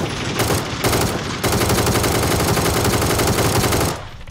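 Sustained rapid automatic gunfire in a shooter video game, loud and dense with brief gaps early on, running continuously for about four seconds before cutting off.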